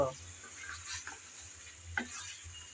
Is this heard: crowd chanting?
no